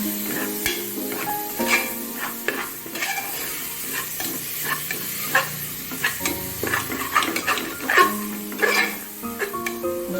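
Tomatoes and spices cook in a pan on a gas flame, a steady sizzling hiss broken by frequent stirring scrapes and light clinks of utensil on metal, close and fairly loud.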